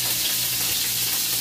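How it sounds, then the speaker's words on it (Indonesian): Tofu frying in oil together with garlic and ginger gives a steady, close sizzle with a constant crackling hiss and no pauses. "Terus kita goreng tahunya bareng sama bawang ya, dengan jahe."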